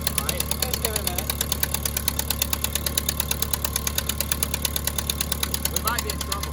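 A Ford Jubilee or Ford 9N tractor engine runs loud and steady at high revs despite having a muffler, with a fast, even knocking beat that continues throughout.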